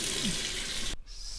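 Water running into a measuring cup, filling it for a mac and cheese maker: a loud, steady close rush of tap water that stops abruptly after about a second, leaving a quiet hiss.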